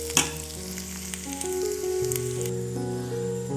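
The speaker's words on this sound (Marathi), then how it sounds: "आता खोबरं पण भाजत ठेवूया।" Dry grated coconut roasting in a pan alongside already-roasted onion for a clam curry, giving a steady low sizzle with light stirring scrapes and a faint background tone.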